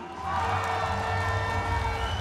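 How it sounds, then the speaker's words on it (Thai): A crowd at a live Muay Thai fight cheers loudly, swelling after a brief lull into a sustained roar of shouts and whoops with a voice carrying over the din. "ขอเสียงเชียร์นักชกทั้งคู่เลยครับ"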